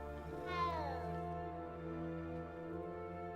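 A cat meows once in Hogwarts Legacy, a single drawn-out, loud and close call with a slight downward bend, followed by a quiet sustained background tone.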